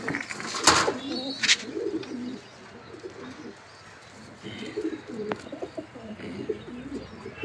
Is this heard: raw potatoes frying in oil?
no